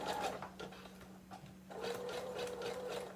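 A sewing machine runs steadily, stitching and back-stitching elastic on a child's skirt, with a brief pause where the motor drops before it resumes its continuous, close-up whir.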